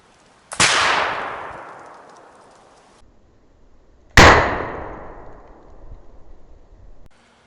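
A .58 caliber Kibler Colonial musket fires at wooden fascine armor, producing a loud single blast that decays slowly. A second, closer report follows about three and a half seconds later, then a lower rumbling tail.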